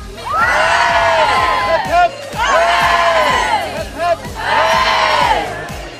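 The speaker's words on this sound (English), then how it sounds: "So I want to give you a huge cheer." School crowd gives three rousing "hurray" shouts for the St Paul's under-16 girls' champion team in 2013, loud and close, each burst answering a call and separated by brief pauses.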